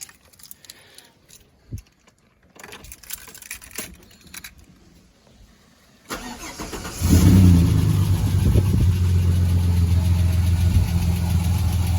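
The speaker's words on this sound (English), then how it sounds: "So now we can start it up and see how we go." Quiet shuffling and small knocks, then a Ford EF Falcon engine cranks and catches after an oil change, settling into a loud, steady idle with a ticking clatter from a noisy tappet.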